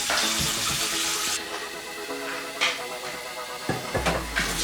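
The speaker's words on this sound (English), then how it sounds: "You start up first with the base, which you got to fill it up with water." Cold water pouring into a hookah base, a soft, continuous trickle and splash with a few clinks and knocks of the glass vessel, fairly quiet and close, without talk.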